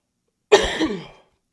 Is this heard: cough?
yes